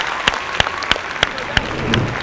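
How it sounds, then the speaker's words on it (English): A group of children clapping in a handful of sharp, evenly spaced claps, six distinct beats close by, with faint background sound between them. "Clap for yourself. Clap, everybody. Clap."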